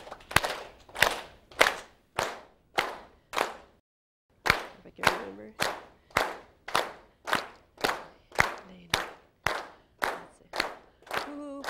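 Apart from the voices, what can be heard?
group clapping along to a Hawaiian chant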